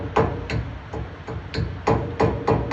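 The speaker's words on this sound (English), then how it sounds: "I find just tapping it out with a hammer" Steel hammer tapping a split pin out of a trailer wheel hub while changing wheel bearings, a series of about eight sharp metallic knocks in a steady, slightly uneven rhythm, close and fairly loud with no talk.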